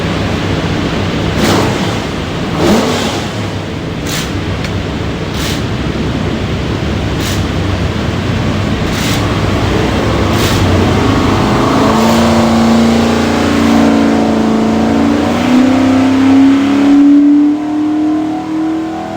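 A Borla-stacked 427 Ford V8 destined for a 1969 Mustang revs on a dyno, a loud, close roar building steadily as the engine climbs through its pull, with a rising tonal whine near the end.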